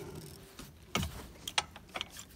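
Patz barn cleaner chain on a Wisconsin dairy farm running in reverse, giving faint mechanical clanks and ratcheting clicks in an irregular series of sharp hits over a low background rumble.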